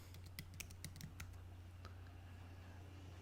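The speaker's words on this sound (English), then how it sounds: "I'm going to type the name." Keys clatter on a computer keyboard as a name is typed into embroidery software for a Ricoma EM1010 machine, a quick burst of clicks over the first second or so, then sparse taps against a steady low hum.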